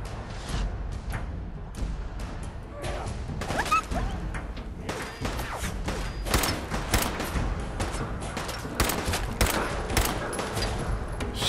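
Rapid gunfire in Fallout 4, bursts of loud shots and impacts repeating steadily throughout amid game sounds.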